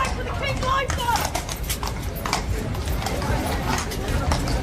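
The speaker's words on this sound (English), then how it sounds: "Watch as this man confidently grabs the horse's reins." Horse hooves clop on hard ground while a man grabs the reins, the steady beat partly buried under crowd chatter and voices nearby.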